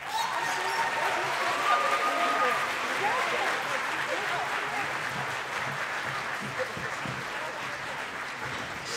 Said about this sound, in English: you should give them an amazing round of applause.